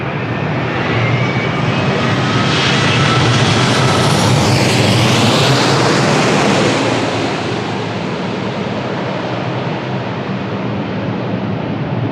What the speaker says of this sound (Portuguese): So the flight from Luanda on short final.